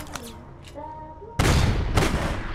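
Gunfire in APB Reloaded breaks out suddenly as a loud burst of rapid shots, continuing as a dense, sustained volley after a quieter stretch of game tones and a voice.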